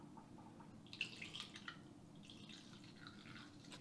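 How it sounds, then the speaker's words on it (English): Coolant gurgles and bubbles faintly while the bleeder screw on a MINI Cooper radiator is opened during a radiator replacement, with soft irregular liquid pops and drips over a low steady hum. "I can still hear bubbles emerging."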